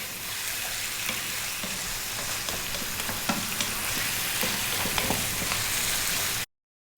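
Chicken fried rice sizzles and fries in oil over high heat, with a steady loud crackling hiss and occasional scraping stirs throughout, alone without talk.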